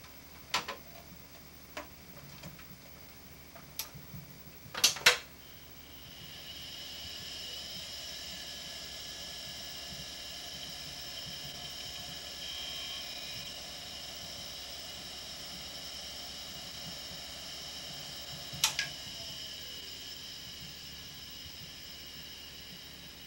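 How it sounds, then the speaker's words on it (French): Old hard disk drive spinning up, a few sharp clicks and ticks followed by a steady high whine of the motor with tonal hum, faint and close, with another click burst later. "lui a à peu près le même bruit de moteur"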